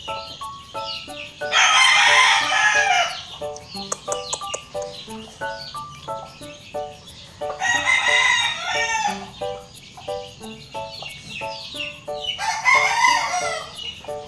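A backyard native rooster crows loudly three times in long, rising calls, with hens clucking steadily in between, close by and without talk.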